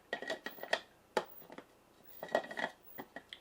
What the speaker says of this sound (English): So we'll put our basket in.